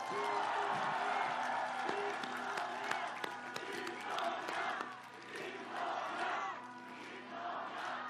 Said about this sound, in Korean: 우리의 동지 김동연 전 후보께 격려의 박수 부탁드립니다